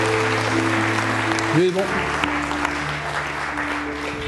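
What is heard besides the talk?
church congregation applauding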